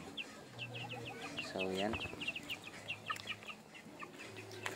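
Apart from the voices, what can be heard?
Rhode Island Red chickens clucking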